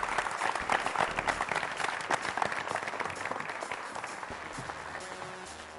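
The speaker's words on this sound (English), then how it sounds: "let's give them all a big round of applause, our West Zone finalists" At a quiz show's West Zone finals, a studio audience claps for the finalists, the applause strong and choppy at first and then thinning gradually toward the end.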